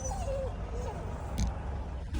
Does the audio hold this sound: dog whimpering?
yes